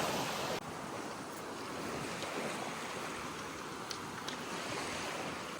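Ocean waves wash steadily onto a beach at Saint Martin, a continuous broad roar of surf with wind buffeting the microphone, heard alone without talking.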